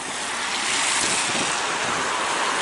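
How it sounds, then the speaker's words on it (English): Strong wind buffets the microphone on a bridge over the River Ouse in York, a continuous loud roaring rush that is close and steady throughout, with no speech. "Okay folks, it's really windy."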